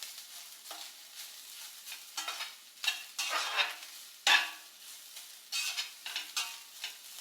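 Grated coconut dry-roasting in a pan for coconut ladoo, with repeated scraping strokes of a spatula against the pan in irregular bursts over a soft, steady sizzle, close and fairly quiet.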